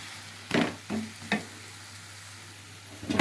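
Chicken curry with potato, with chilli powder just added, fries quietly over a low hum as a spoon scrapes through it in three short stirs, then a brief further scrape at the end, close and with no talking.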